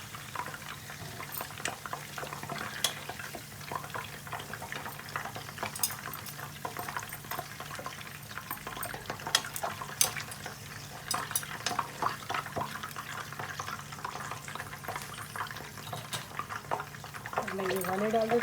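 Stuffed dum kababs frying in a pan give a steady, close sizzle and crackle with occasional utensil clinks, under someone speaking Hindi at intervals.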